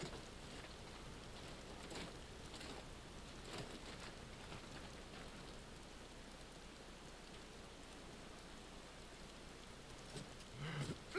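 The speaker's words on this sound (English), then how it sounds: "Well, of course it's raining." Soft, steady rain in the video game Final Fantasy 16 hisses and patters throughout, with a few brief louder spatters.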